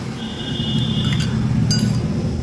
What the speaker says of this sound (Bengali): ছুরি দিয়ে নাড়িয়ে দেবো।